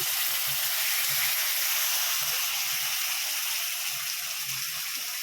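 A paste of garlic, ginger, green chili and onion sizzles loudly and steadily in a hot pan for a jackfruit and potato curry, with a constant bright hiss and no voices.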